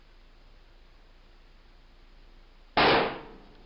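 Recorded gunshot played back as a test inside a house, a single sharp loud bang near the end after several seconds of steady low hiss, then a brief decaying tail.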